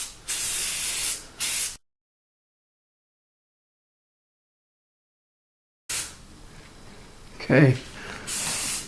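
Valspar Pink Burst spray paint hisses from an aerosol can in several short bursts, with a long gap of silence between them and a brief spoken word near the end.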